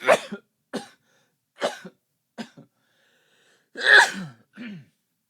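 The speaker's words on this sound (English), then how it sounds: "I'm going to sneeze." A series of short breathy bursts and sharp exhalations builds up to one loud, forceful sneeze, followed by a quieter gasp.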